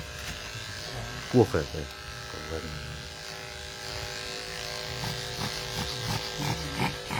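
Electric hair clipper buzzing steadily while hair is shaved during a salon cut, a continuous close hum under lively conversation between several people.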